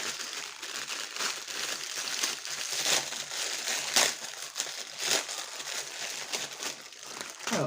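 An artificial white rose ordered from AliExpress is unwrapped from its plastic packaging, with close, continuous crinkling and rustling and a few sharper crackles, no talking.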